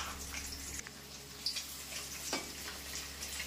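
Paneer fries in a pan with a soft, steady sizzle, quiet and close, broken by a couple of faint clinks and stirring sounds.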